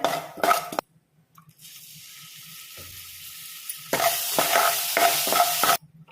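Spices, salt and chili powder stirred together in a hot frying pan while preparing a bitter gourd dish, with bursts of scraping and sizzling at the start and end around a steady quieter frying hiss.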